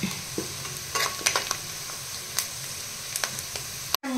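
Marinated chicken goes into a pan of frying cashews for kaju chicken masala, giving a continuous close sizzle with scattered stirring scrapes and a sharp clatter near the end.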